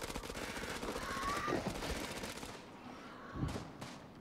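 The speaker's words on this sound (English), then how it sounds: "Shoot this one." Gunfire rattles in the video game House of Ashes, with a dense fusillade of loud shots and a rumbling battle mix that thins out, then one more sharp blast near the end.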